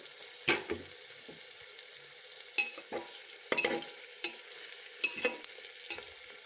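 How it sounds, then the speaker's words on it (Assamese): Onion, carrot and potato being stir-fried for pulao, with repeated spatula scrapes and clinks against the pan over a quiet, soft sizzle, close and without voices. "অলপ এনেকৈ লৰাই লৰাই ভাজি থাকিম অলপ সময়ৰ কাৰণে"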